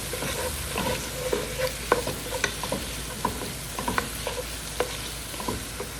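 Tomatoes sizzle in oil left from frying prawns while a spoon stirs and scrapes the pan in irregular clacks, close and moderately quiet, with no voices.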